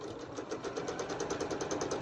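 Sewing machine stitching a travel cup cozy, a fast even run of mechanical needle strokes that stays close and steady for the whole stretch.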